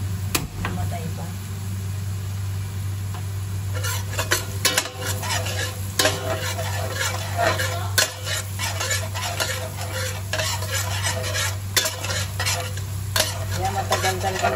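Garlic for carbonara fries with a constant sizzle while a utensil scrapes and taps the pan in quick irregular strokes, a low hum beneath and a voice talking over it.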